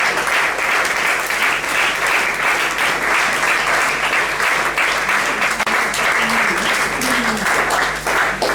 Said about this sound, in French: Et nous acclamons Jésus.